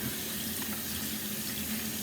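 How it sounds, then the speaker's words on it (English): Warm tap water pours steadily into a sink while hands are rinsed of soap, a continuous close hiss and splash without a break. "Got some nice warm water, and we're gonna rinse off all the soap."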